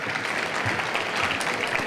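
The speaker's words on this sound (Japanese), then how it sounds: "皆さん、パネリストの方々に拍手をいただきたいと思います。" Audience applause for panelists at the close of a panel discussion at an international robotics and industrial IoT symposium, a steady dense patter of many hands clapping throughout, fairly loud and without talk.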